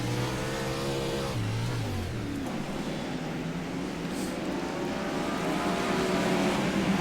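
Race cars circling slowly at Lanier National Speedway in a winged car racing event, a steady droning engine roar with shifting pitch as the pack rolls by, continuous and moderately loud.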